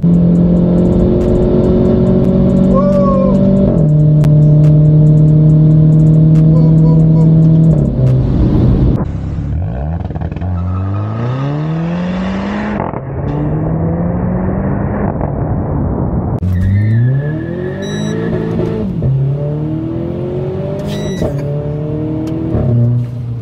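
A Renault Clio 4 RS Trophy with a Stage 1 engine revs and accelerates repeatedly, its rising engine notes climbing through the gears, heard loud and close from inside the car with brief exclamations between pulls.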